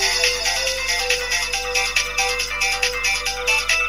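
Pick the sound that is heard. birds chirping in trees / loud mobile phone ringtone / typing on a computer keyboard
loud mobile phone ringtone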